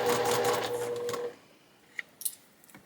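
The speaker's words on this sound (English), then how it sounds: "We're going to take this over to the sewing machine." A sewing machine stitches a zipper pouch in a fast, rattling burst of close mechanical stitching that stops after about a second, leaving near silence broken by a few faint clicks and taps.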